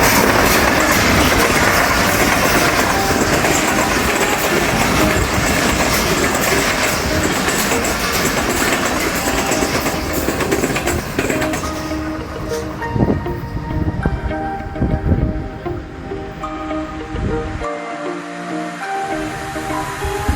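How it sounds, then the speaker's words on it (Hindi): A train pulling into Mankiala railway station in Pakistan: a loud, close rumble of wheels and wagons with clickety-clack rhythm, gradually easing and thinning out as it slows, with a few brief clanks near the end. "रेलवे स्टेशन पर ट्रेन का इंतज़ार करते करते पहली ट्रेन हमें नज़र आई, वो भी अभी आ रही है"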